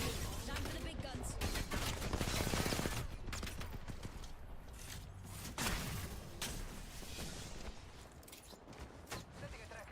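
Heavy-weapon gunfire in the video game Apex Legends: bursts of rapid automatic shots and loud blasts crowd the mix, fairly near and continuous, mixed with game sound effects and character voice lines.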